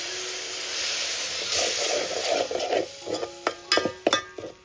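Soaked kokum dropped into hot tempering in a pot over a village wood-fired chulha, giving a broad steady sizzle and hiss that breaks into several sharp crackling bursts toward the end.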